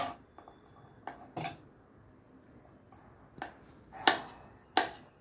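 Wild leafy greens chopped finely with a knife on a board, irregular sharp chops near and clear, with louder strikes toward the end and quiet gaps between them, no voices.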